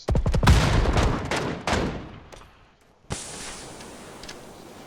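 Gunfire in a shooter video game: a rapid burst of close, loud shots, then a second burst and scattered fainter reports, ending with one more sharp shot over a steady hiss.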